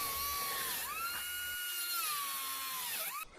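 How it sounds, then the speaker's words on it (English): A pneumatic air cut-off tool cuts through exposed rusty bolt threads under a Series Land Rover, giving a high, whining grind that dips in pitch under load and then recovers, loud and close, cutting off abruptly at the end. "Using my air cut-off tool to cut off the exposed rusty bolt threads so I can just undo them."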